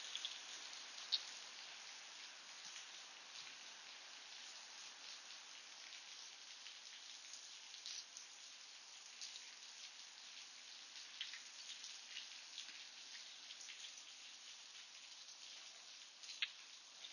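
Rain falls outdoors as a faint, even patter and hiss with a few sharper drops landing nearby, steady throughout with no voices.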